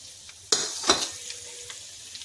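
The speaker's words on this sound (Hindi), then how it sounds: "सूखी मिर्ची, जीरा, ये देखिए जीरा भी जा रहा साथ में।" Dried chilies and cumin seeds drop into hot oil in a pan for a ridge gourd dish, bursting into two sharp sizzles. A softer crackle follows and fades, and nobody talks.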